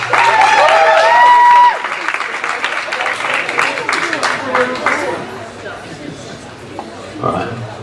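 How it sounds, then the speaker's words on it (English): An audience at a magic show applauds a volunteer coming up, with a burst of clapping and crowd noise mixed with cheering voices that tapers off toward the end. "Give Chris a round of applause."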